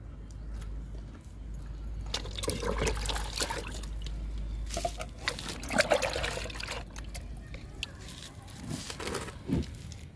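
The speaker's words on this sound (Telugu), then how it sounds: "ఈ కొమ్మలకు కూడా చల్లుతున్నాను లిక్విడ్" Liquid is sprayed onto the branches of potted plants to treat mealybug. Close hissing spritzes and pattering droplets come in uneven bursts over a low background rumble.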